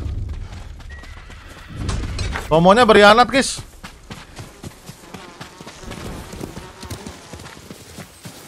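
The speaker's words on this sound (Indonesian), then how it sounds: "Oh iya, kuda gua tadi gua parkir di sini ya." A horse in the video game Ghost of Tsushima clops its hooves and lets out a loud, close neigh partway through, with someone talking over the game audio before and after.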